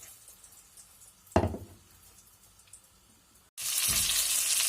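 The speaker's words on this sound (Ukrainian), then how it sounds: "Бачите, як вони смажаться." Oil sizzles and crackles steadily in a pan as cabbage chebureks, dipped in egg, fry, with a sharp burst as one drops in and a louder hissing surge near the end.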